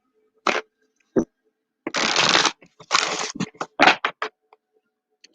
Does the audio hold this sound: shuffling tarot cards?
yes